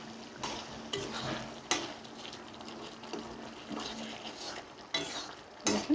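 Meat frying in a pan while being stirred, a continuous sizzle broken by repeated scraping strokes and spoon clatter against the pan at irregular intervals, close and fairly quiet.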